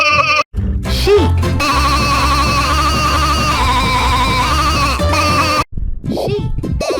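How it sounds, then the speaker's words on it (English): Sheep bleating processed with a pitch-shifted remix effect, long loud layered bleats with strong harmonics, broken by two brief silent gaps and followed by short wobbling pitch sweeps. "Sheep."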